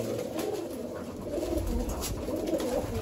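Pigeons coo softly and repeatedly inside a pigeon loft, low rounded calls overlapping in a quiet, continuous murmur.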